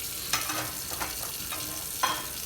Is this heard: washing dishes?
yes